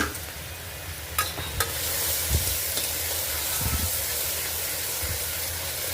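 Ginger, chilies, garlic and onion sizzling in oil in a kadai after asafoetida, a steady bright hiss of frying with a few sharp clinks and stirring scrapes.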